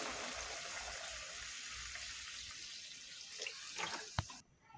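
Fish curry broth pours steadily into a pan of pumpkin, a continuous soft liquid splash ending with a few drips, fairly faint and alone.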